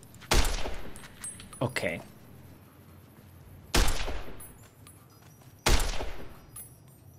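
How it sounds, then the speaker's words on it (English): Three heavy shotgun blasts ring out from far away in the Fallout New Vegas wasteland, each a sharp boom followed by a rolling decay, spaced a few seconds apart, with a brief spoken word between the first two. "that's a shotgun from very far away"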